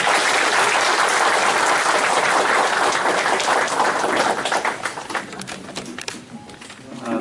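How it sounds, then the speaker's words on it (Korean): A crowd in a provincial government briefing room applauds loudly with dense, continuous clapping that gradually thins and fades toward the end. "우리 남시장님께 큰 박수로 우리"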